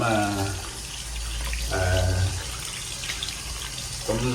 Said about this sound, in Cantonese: 我哋放少少水落去啦